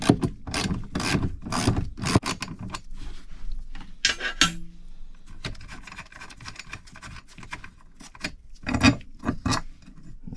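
A ratchet wrench turns out a 13mm foot peg bolt on a vehicle during a floor board plate install, giving bursts of rapid clicking ratchet strokes with short pauses and some metallic rubbing, close and alone.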